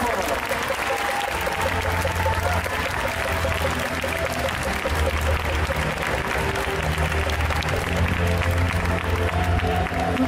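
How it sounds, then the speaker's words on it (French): Loud, dense applause from an audience at an indoor cosplay costume contest, a steady, unbroken roar of many hands clapping over a low, tonal background. "Allez, on l'applaudit très très très très fort."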